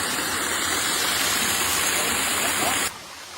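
Water rushes down a mountain channel as a steady, loud broadband gush that continues almost to the end, then cuts off abruptly and leaves quiet background.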